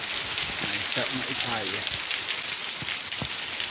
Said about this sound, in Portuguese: Chuvada boa, chuvada pesada, pessoal.